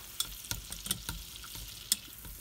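Butter melting on high heat in a pan for a creamy potato soup, giving a soft, continuous sizzle broken by a few sharp pops and utensil taps, quiet and close with no voices.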